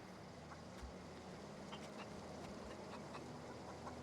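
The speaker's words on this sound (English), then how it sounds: "Oh, it's the chicken is mad at me." An angry chicken in the video game The Outer Worlds gives a few short, faint squawks over a dense, noisy in-game ambience.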